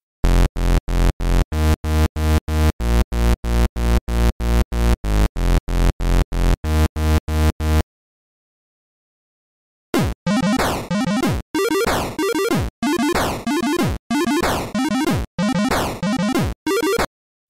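Two channels of an 8-bit chiptune song recreation heard one after the other: first a buzzy square-wave line of rapid, evenly spaced staccato notes, then after a short silence a harsher noisy channel of repeated bursts, loud and synthetic.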